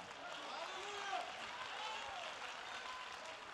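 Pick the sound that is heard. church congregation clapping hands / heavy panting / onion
church congregation clapping hands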